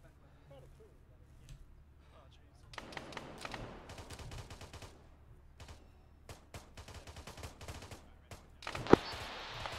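Gunfire in the video game Arma 3 during a dry-fire drill: rapid bursts of distant-sounding shots come in clusters separated by short pauses, with voices under them and a sharper, louder burst near the end.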